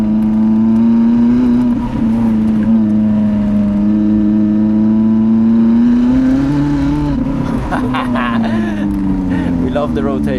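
A Lotus Elise sports car drives in city traffic, its engine droning steadily close up and rising and falling with throttle changes, ending in a brief rev.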